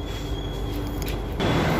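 A metro train in a station gives off a steady rumbling roar with a thin high whine, growing louder toward the end as the train moves, with no voices.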